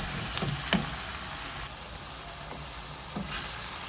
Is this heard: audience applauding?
no